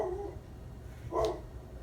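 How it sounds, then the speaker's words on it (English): A dog barks at a passing delivery truck indoors, with one short, fairly close bark or yip breaking through a quiet room hum. "My dog is barking at the UPS truck."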